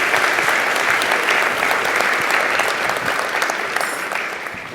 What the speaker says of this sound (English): So please give a round of applause for our dignitaries.